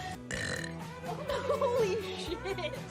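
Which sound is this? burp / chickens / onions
burp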